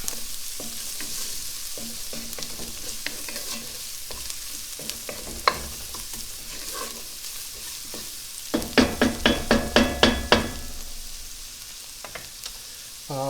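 Garlic frying in a hot pan gives a continuous close sizzle, broken by stirring scrapes and a rhythmic burst of about eight quick clacks near the end, with no talking.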